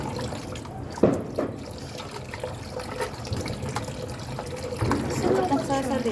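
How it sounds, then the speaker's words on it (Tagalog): Chopsticks rinsed by hand under a running kitchen tap, a steady trickle with small splashes and clicks of wood close by, while a voice talks through it. "hugasan natin yung mga chopstick"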